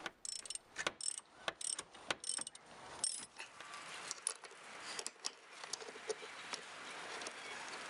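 A 12mm ratchet tightens the nut on a rear shock stud, giving quick bursts of sharp pawl clicks with brief pauses between them, close and fairly quiet.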